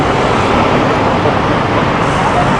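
Road traffic during a bicycle convoy event, a loud steady roar of passing vehicles close by with no break.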